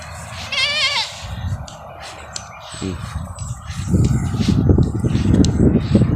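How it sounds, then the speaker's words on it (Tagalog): Anglo-Nubian and Boer goats on a farm: one clear wavering bleat rings out early, followed by shuffling, chewing and rustling noises from the herd, with no talking. "Yan yung mga kambing ko."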